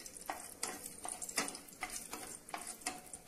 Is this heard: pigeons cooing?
no